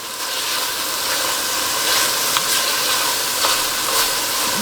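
Carrots cooking in a soup pot give a steady, moderately loud sizzle and hiss that runs throughout, with faint stirring scrapes now and then and no voices.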